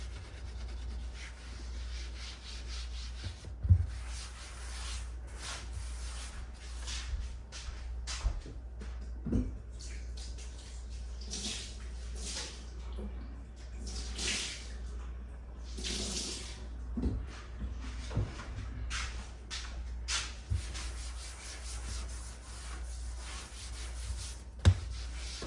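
A kitchen sponge, a small cute one bought from Aldi, is scrubbed for a long stretch as a steady close rubbing with soft swishes and occasional knocks, over a constant low background hum and without talk.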